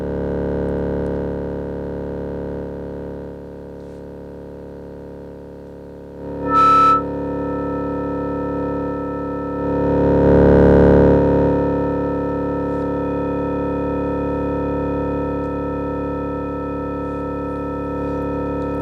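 A steady electronic drone hums with a reverberant wash that swells loudly partway through, plus a brief high chirp earlier. No voices. Feedback reverb from a FUMANA effects module patched back into its own channel.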